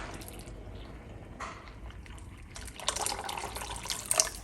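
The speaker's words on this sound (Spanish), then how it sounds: "le vamos a agregar agua." Water pours into a cooking pot in a home kitchen, a steady splashing stream that swells louder toward the end, with a few brief sharp clinks near the close.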